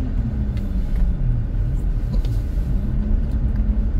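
Cars crawling and idling in a highway traffic jam, a dense low rumble of engines close around, steady and unbroken with no voices.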